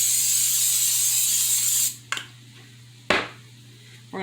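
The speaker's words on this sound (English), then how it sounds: "So we're going to take and spray this skillet." Cooking spray hisses onto a skillet in a home kitchen in one steady burst lasting about two seconds, then cuts off, followed by a couple of soft clicks and light handling noises.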